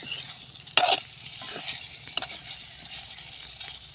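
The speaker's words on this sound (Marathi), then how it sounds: "आपल्या करंज्या परतून घेऊया आपण." Pea-stuffed karanji stir-frying in a pan, a steady soft sizzle with a sharp clatter of stirring near the start and lighter scrapes later, close and moderately loud.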